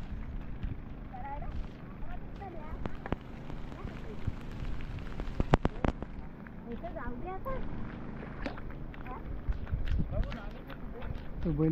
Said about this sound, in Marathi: बघा कंटिन्यू पाऊस पडतोय